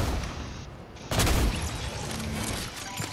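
A burst of gunfire in a Fortnite match, one loud sharp blast standing out over a busy, noisy game background, followed by fainter scattered shots.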